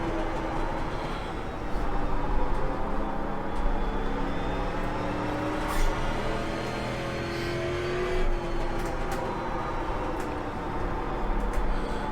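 A street stock race car in the iRacing VR game drones loudly and continuously, its engine rising and falling in pitch as it is slid through corners, with occasional tire scrubbing and revving swells.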